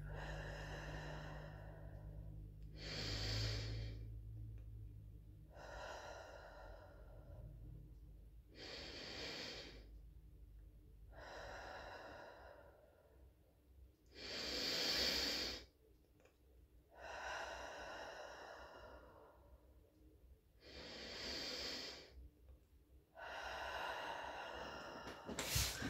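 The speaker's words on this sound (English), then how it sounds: "So I'm going to breathe in," Slow, deep breaths in and out during a guided breathing exercise, about eight long inhale and exhale cycles in a steady rhythm, close and clear with no talking.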